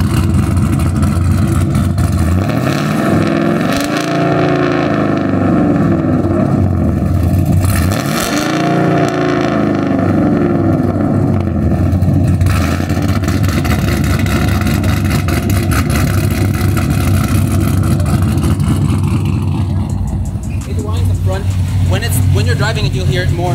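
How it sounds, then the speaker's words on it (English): A supercharged Ford Sierra with a 2650 engine revs loudly and close up, with a few sweeping rises and falls in pitch under a constant engine roar, and people talking over it. "It ain't a turbo Sierra no more. It's a supercharger Sierra."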